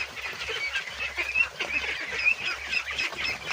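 A flock of ducks quacks and honks continuously at close range, a busy overlapping chorus of calls on a small farm where they are being fed azolla.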